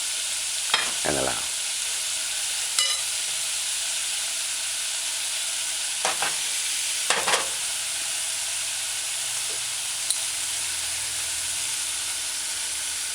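Cubed luncheon meat frying in oil with a soft, constant sizzle-hiss, punctuated by a few sharp utensil clacks and scrapes, and a few brief spoken words.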